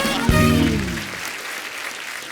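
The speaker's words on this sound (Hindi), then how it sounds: "जोरदार तालियां" Audience applause rises to welcome guests on a Hindi comedy show, starting with a loud cheer-like swell that fades into softer sustained clapping.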